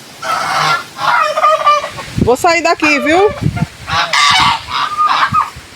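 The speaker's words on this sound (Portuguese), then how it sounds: "Os patos, os peru gulu-gulu, os peru gulu-gulu, os gansos ali" Geese in a farmyard pen honk loudly and repeatedly at close range, a run of harsh nasal calls with a voice speaking briefly among them.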